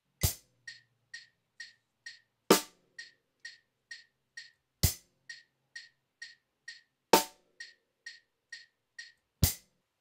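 A drum kit plays a loped quintuplet beat in sparse form: a strong accented hit every couple of seconds, each followed by four lighter, crisp ticks in an even five-count pattern, repeating cleanly with no other sound.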